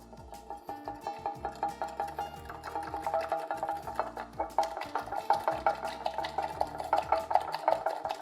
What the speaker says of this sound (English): whisk the egg, the herb and the cheese mixture till it's nice and creamy and fluffy